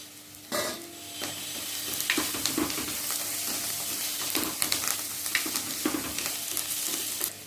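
Onion sautéing in a pan with rock salt and curry leaves for a rajma gravy, a loud continuous close sizzle broken by repeated stirring scrapes, with no voices.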